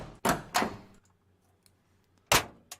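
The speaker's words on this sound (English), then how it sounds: "we're looking for a truck door" A truck door from a licensed sound effects library: two quick heavy thunks close together, a pause filled with faint latch and mechanism rattles, then another solid slam with a short follow-up knock.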